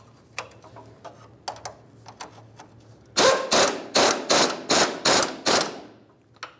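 A ratchet clicks in quick, loud bursts while tightening the nut on a lower control arm bolt, after softer scattered clicks and taps from the same work.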